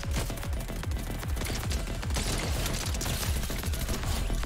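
Rapid, continuous automatic gunfire from a gun in the video game Fortnite, with dense repeated shots and no pauses.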